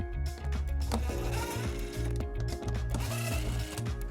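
Power tool with a 10mm socket spinning out underbody panel screws on a 2015 Toyota Sienna, a close, whirring motor buzz in short bursts with rhythmic rattling pulses.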